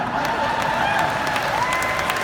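A conference audience at a real estate megacamp claps steadily throughout, dense continuous applause with some cheering mixed in.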